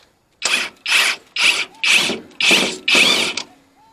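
Hand ratchet removing bolts during a rear strut replacement on a 2007 Scion tC, six quick loud ratcheting strokes in a row, close up and with no one talking.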